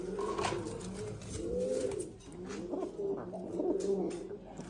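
Rajshahi Giribaz pigeons coo again and again at a moderate level, their low, rolling calls overlapping in close, steady bursts.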